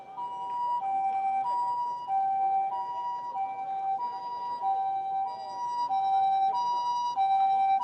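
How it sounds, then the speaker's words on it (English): An ambulance siren approaching a station in Shimokitazawa, Tokyo, loud and close with a steady two-tone wail alternating evenly over constant street noise. "Oh, there is a ambulance coming here."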